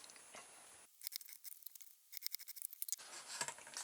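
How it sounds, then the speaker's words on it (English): Sharp knife slicing through cardboard, a burst of quick rasping scrapes and tearing strokes in an irregular rhythm, close and moderately loud, with quieter handling noise before and after. "but I'm going to cut it with a sharp knife now."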